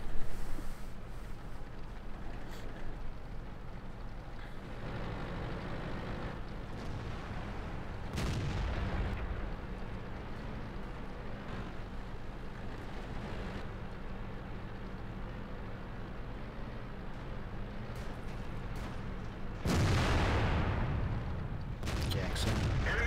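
A tank's main gun fires in World of Tanks, T28 Prototype, with loud booming shots near the start, around eight seconds and again near twenty seconds, over a steady engine drone and battle ambience.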